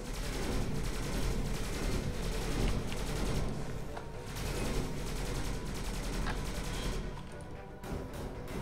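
Turret-mode gunfire in the Skyforge video game, a dense continuous stream of rapid bursts and impacts filling the whole stretch loudly, with a slight easing near the end.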